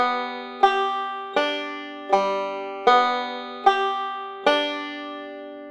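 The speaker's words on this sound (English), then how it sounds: "So the first roll pattern is called the alternating thumb roll." A banjo plays the alternating thumb roll slowly and cleanly, as seven evenly spaced bright plucks that each ring out and decay in a quiet room.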